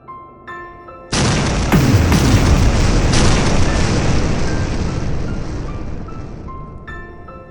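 Mines explode in a huge boom that erupts suddenly and roars on for several seconds, a loud rumbling wash of debris and blast noise that slowly fades, with faint tones before and after.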